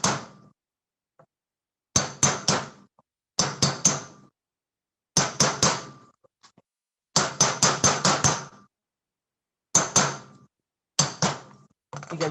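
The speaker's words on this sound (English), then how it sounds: "take that and take a hammer" A hammer knocking a bolt out of a CocoaTown melanger stone set on a 2x4, heard as close, loud clusters of sharp metallic taps repeated in bursts with short silent pauses, no talking.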